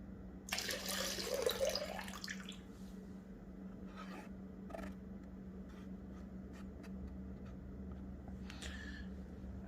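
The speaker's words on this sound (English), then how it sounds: "dump out all the water." Water pours and splashes out of a gold pan in a short near burst, followed by light drips and scattered small clinks over a low steady hum.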